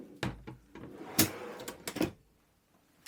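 Drawers in an RV galley drawer stack slide and knock shut in a handful of quick, close, moderately quiet clunks and rattles over a few seconds.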